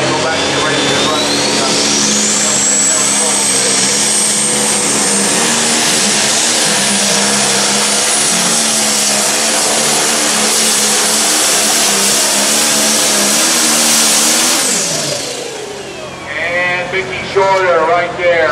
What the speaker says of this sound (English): He'll pull his high maintenance tractor